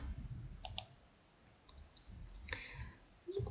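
Soft mouse clicks register on a computer while signing up for a Genially account, a couple of quick close clicks followed by a later one, quiet in a still room.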